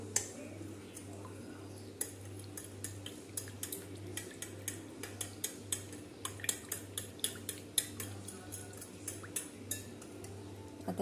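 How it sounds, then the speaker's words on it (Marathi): A whisk mixes milk and yogurt in a steel vessel with quick, steady metallic clinks and ticks, and a low hum runs underneath. "आता हे पण चांगलं मिक्स करून घ्यायचं आपल्याला. विस्कने मिक्स करून घेतलं तरी पण चालेल."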